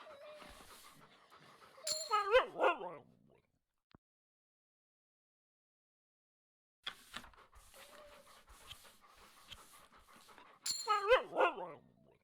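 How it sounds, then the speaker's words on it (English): Dogs in the video game The Pale Beyond barking, panting and whimpering in two separate bursts, close and fairly loud, with a silent stretch between them and no talk. "I love the dog noises."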